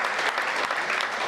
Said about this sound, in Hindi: अब जोरदार तालियां सौरभ जैन।